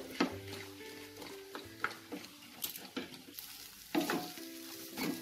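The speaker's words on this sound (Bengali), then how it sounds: "এটা আমি তেলে খুব ভালো করে নাড়াচাড়া করব যাতে ময়েশ্চার একদম না থাকে।" Potato filling for Bengali egg devil stirred and fried in oil, a steady sizzle broken by repeated scraping strokes of a spatula against the pan, close and moderately loud with no talk.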